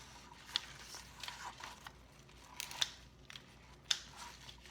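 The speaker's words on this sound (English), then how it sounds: "We're just going to trim these parts off of the big stem." Scissors or pruning shears snip stems of passion flower, cutting leaves, flowers and tendrils from a larger stem, giving a few sharp, quiet clicks spaced unevenly over a soft, hushed background with no talking.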